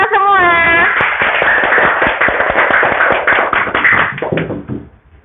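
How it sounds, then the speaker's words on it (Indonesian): Classroom clapping from a group of students, a dense flurry of quick, overlapping hand claps with a voice at the start, close and loud, dying away at the end. "Oke, tepuk tangan untuk kita semua."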